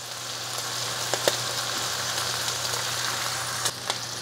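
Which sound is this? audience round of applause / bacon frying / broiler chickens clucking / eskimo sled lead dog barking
bacon frying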